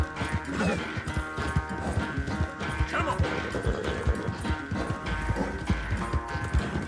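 Horse hooves gallop at a steady, fast clip-clop rhythm in Red Dead Redemption 2 along a rough, winding trail, near and fairly loud over a continuous game soundtrack, with an occasional snort.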